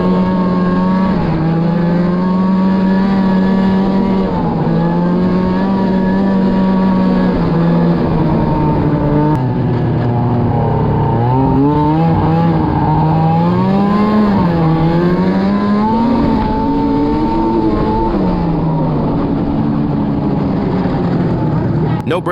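An old two-stroke snowmobile engine drones steadily up close, its pitch wavering and climbing as the throttle shifts, loud and continuous throughout.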